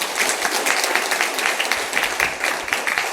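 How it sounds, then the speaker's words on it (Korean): A church congregation gives steady welcoming applause for a visiting musician, a dense, continuous clatter of many hands filling the room for the full few seconds with no talk over it. "우리 한번 환영의 박수하겠습니다"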